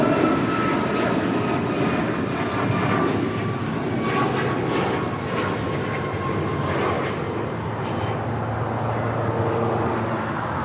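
A United airliner takes off from runway 25 right at LAX, its jet engines roaring steadily and loudly throughout with a broad, continuous rumble.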